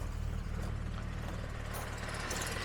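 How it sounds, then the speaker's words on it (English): A 1970s Jaguar engine with an exhaust leak runs at a steady idle, giving a continuous close rumble and a hissy, rough exhaust note with no voices. "Yes, there is an exhaust leak."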